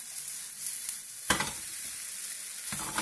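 Eggs and leftover pasta and duck breast cooking as an omelette in a pan, a steady bright sizzle with a few louder crackling bursts where ingredients hit the hot fat.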